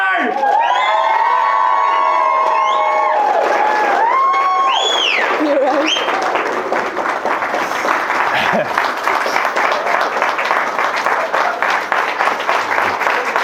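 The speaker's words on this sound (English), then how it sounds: "Give a big cheer!" Wedding guests whoop and cheer loudly at first, then break into sustained, crowded applause that carries on evenly, with a brief spoken remark among the noise.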